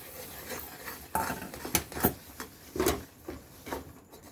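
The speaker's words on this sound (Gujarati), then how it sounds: "બંધ કરી દઉં છું અને હલાવી અને અહીંયા નીચે ટાળી દઉં" A spoon stirs black sesame seeds into hot jaggery syrup for chikki. It makes irregular scraping and clinking strokes against the pan, close and moderately loud, with sharper knocks now and then.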